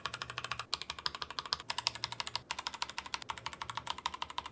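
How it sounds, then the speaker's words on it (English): Rapid, steady keystrokes on a mechanical keyboard fitted with budget PBT keycaps, each press a crisp, close, fairly loud thwack, with brief pauses between bursts and no voices. "The difference is quite apparent when hearing each key press back to back."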